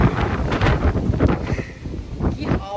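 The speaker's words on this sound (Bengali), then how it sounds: "বাইরে কি হাওয়া হচ্ছে আর বৃষ্টি হচ্ছে" Gusty wind blows outdoors during a rainstorm, buffeting the microphone in steady roaring surges with no clear pauses.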